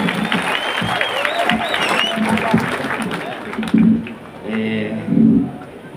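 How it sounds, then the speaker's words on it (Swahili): Audience applause at a public gathering greeting Mr Chomba, a dense, steady wash of clapping with some whistling and crowd noise for about four seconds, then dying down as voices speak over the fading claps. "Kwa hivyo, makofi kushinda ile umepatia mtu yeyote leo"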